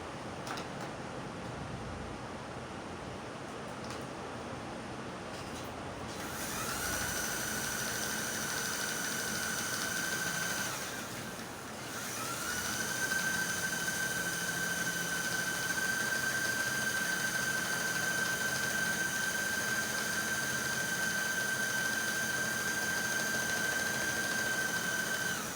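A sewing machine stitches along a sleeve line for a structured boning sleeve, giving a steady motor hum with a faint whine that holds for over twenty seconds, with a short dip partway, and no voices.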